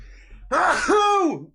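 A single sneeze from a man during a football watch-along, a sudden sharp burst with a rising then falling voiced tail, brief and close.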